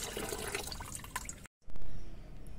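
Water poured into a container of kitchen-waste fertilizer, mixed about three parts water to one part fertilizer: a steady splashing liquid flow that pauses briefly and then continues, with no one talking.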